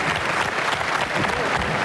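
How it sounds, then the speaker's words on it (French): Dense studio audience applause on a French TV game show, steady and loud throughout, a continuous wash of many hands clapping with no pauses and no talk over it. "quelques applaudissements pour nos amis canins"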